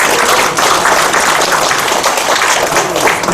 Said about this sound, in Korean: 우리 은석 교수님께 한잔 박수 부탁드리겠습니다